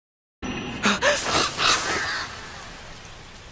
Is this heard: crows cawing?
yes